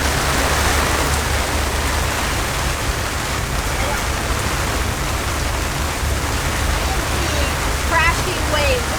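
Heavy storm rain pours down on a catamaran at sea, a dense, steady hiss over a low rumble of wind and water, continuous and loud throughout.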